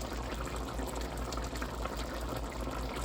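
Leftover liquid is poured into a pot of chicken curry, producing a steady, low, bubbling gush that stays at an even level for a few seconds with no talking.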